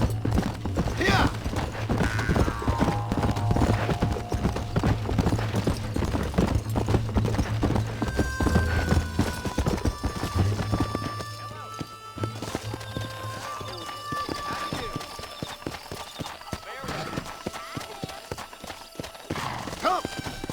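Horse hooves clip-clop at a steady gallop in the Western video game Red Dead Redemption, a continuous rhythmic pounding with a whinny, loud and close through most of the run before easing off, with faint voices and ambient game sound underneath.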